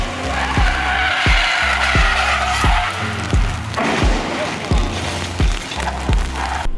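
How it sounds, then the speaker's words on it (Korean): Tires squealing as a car understeers under full braking into a corner in a circuit racing video game, the skid loud and wavering over a low, rhythmically pulsing engine drone, with talk faintly underneath. "코너에 들어가기 전에 풀 브레이킹 그리고 스티어, 앞으로 이렇게 미끄러지는 언더스티어가 발생을 해요"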